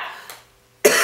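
A cough bursts out loudly at the end, following a faint earlier breathy sound in an otherwise quiet room.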